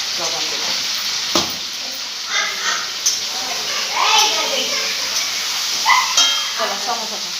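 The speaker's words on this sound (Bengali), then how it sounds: "আর এদিকে শাক ভাজছি, মূলোর শাক" Radish greens frying in a pan with a steady crackling sizzle throughout, with a few stirring clinks and children's voices and chatter nearby.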